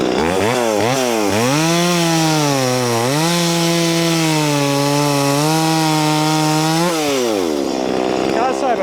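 An Oregon PowerSharp chainsaw with a 16-inch bar cuts through small wood close up. The engine drones loud and steady, revving and dipping in pitch as it bites, then winds down at the end.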